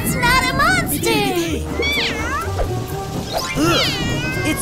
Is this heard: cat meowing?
yes